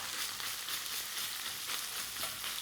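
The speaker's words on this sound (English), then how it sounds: "All I have to do now is sear the pork" Pork mince sears in a pan over medium-high heat, giving a steady, close, loud sizzle with soft crackles throughout and no talking.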